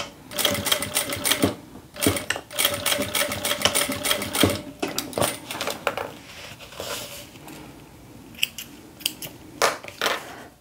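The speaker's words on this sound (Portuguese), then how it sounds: "E vou passar uma costura também." Sewing machine stitching a seam on a child's round fanny pack, running in rapid bursts of clattering stitches separated by short pauses, close and fairly loud.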